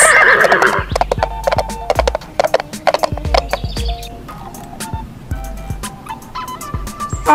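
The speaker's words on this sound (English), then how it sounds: "Horse." A horse gives a loud, close whinny at the start, followed by a series of hollow clip-clop hoofbeats. Faint bird chirps sound in the background.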